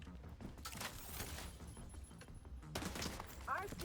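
Dense video-game gunfire, rapid overlapping shots and bursts in a continuous fusillade with a brief lull before it resumes, under faint game voices.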